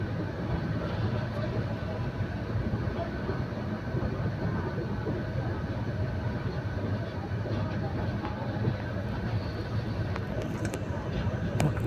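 A long passenger train bound for Rangpur, Kurigram and Lalmonirhat runs along in a steady low rumble with continuous rolling noise, fairly quiet and unbroken throughout.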